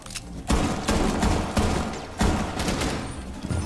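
Dense bursts of automatic gunfire in Rainbow Six Siege, loud and continuous with heavy thumping shots repeating throughout.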